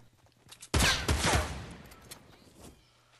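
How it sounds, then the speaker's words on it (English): Gunfire in the video game Fortnite is aimed at the player: a sudden loud burst of rapid shots fires at close range, then trails off into a fading echo. "Stop shooting me"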